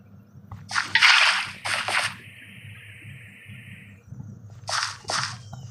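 Water splashing in the video game Minecraft, several bright splashy bursts near the start and another pair near the end, with a steady sloshing tone between them over a quiet low background.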